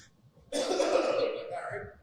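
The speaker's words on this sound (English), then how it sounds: "I started coughing" A single harsh, rasping smoker's cough bursts out close by in a bathroom after a moment of near silence, trailing off into a rough exhale.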